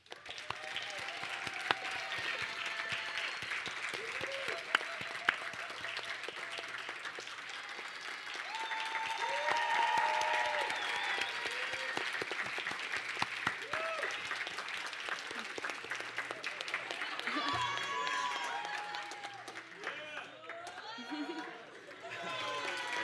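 An audience at the Purdue Rising Professionals panel applauds seven panelists, sustained clapping from a crowd filling the room at a moderate distance, with an amplified voice speaking over it toward the end.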